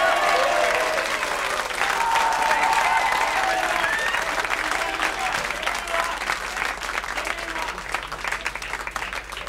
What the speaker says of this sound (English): How about keeping those round of applause on guitar?